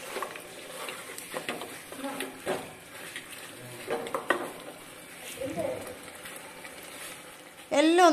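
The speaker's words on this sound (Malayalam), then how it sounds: "ഇതൊക്കെ ഈ കുക്കറിലിട്ട് ഒന്നും കൂടി മിക്സ് ചെയ്യാം" A spoon scrapes and clinks as spices are stirred in a pressure cooker for irachichor, a meat rice dish, with soft sizzling under intermittent knocks and a louder metallic clatter at the end, close by, with no voices.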